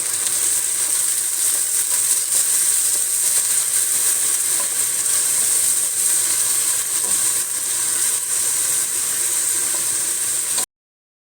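A paste of green chili, mint and coriander sizzles with onions in a pan while mushroom biryani is being cooked, giving a steady, even hiss of frying that lasts throughout with no talking.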